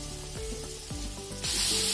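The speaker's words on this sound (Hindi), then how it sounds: "फ्राई कर लेंगे इनको थोड़ा सा" Turmeric and garam masala sizzle steadily in hot oil in a pan, a bright continuous frying hiss that swells louder near the end, with no talking.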